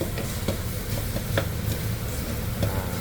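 Bitter gourd stir-fried with pickled garlic in a pan, a faint steady sizzle with soft scraping stirs at irregular intervals.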